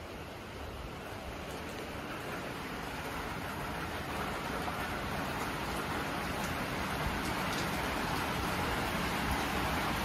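Steady rain falls at a resort in Cairns, Australia, a dense, even hiss that holds unbroken from start to finish with no voices.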